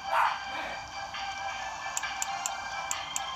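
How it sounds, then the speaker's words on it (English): A pet dog barks faintly in another room, a brief yip near the start followed by a few short distant barks, set under game music with chiming beeps. "my dog's barking and my dad's just yelling at it."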